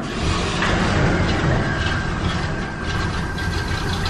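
A 1965 Ford F100 pickup's engine runs steadily close by, a dense low rumble with a faint whine, loud and continuous with no voices.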